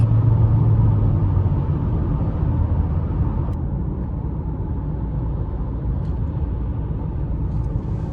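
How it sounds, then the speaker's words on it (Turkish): Mercedes-Benz GLB200 4MATIC with a 1.33-litre, 163 hp engine accelerating at full throttle from 110 km/h, a steady, loud low engine and road rumble heard from inside the car, with no talk. "110 km hızla giderken gaza tam oturduğunuz zaman aracın ivmelenmesi bu şekilde 150'li hızlara bu şekilde çıkabiliyorsunuz"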